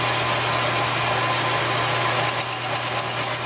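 Lathe spinning a live steam locomotive wheel with a carbide tool brought up to it, a steady close motor hum and whir with faint rhythmic rattling toward the end.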